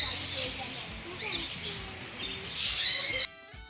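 Birds call and chirp at a bird-feeding place in Ooty, a busy mix of high twittering and whistles throughout, fairly near, ending abruptly.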